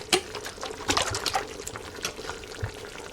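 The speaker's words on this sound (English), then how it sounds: "I add some Grace coconut milk." Grace coconut milk pours into a cooking pot with meat, red peas, black-eyed peas and kidney beans, a soft, uneven liquid gurgle and splash with a few small clinks, close and fairly quiet.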